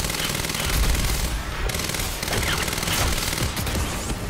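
Rapid tactical SMG gunfire from the video game Quantum Break, loud sustained bursts of automatic fire with brief pauses, dense and continuous across the moment.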